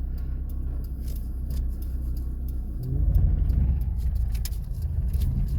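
A car creeps slowly forward out of a parking spot toward a speed bump, its engine rumble low and steady, then swelling slightly as it begins to move.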